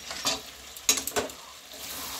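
Chicken kosha sizzles and fries in a pan, with a few scraping stirs of the spatula cutting through the steady hiss; close and moderately loud, no talking.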